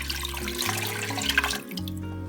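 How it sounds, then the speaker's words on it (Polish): Cold filtered water poured from a tap or jug over a pork knuckle in a pot, a loud continuous rushing gush close up that shifts in pitch as the pot fills, then eases off. "No I zalewamy zimną, filtrowaną wodą."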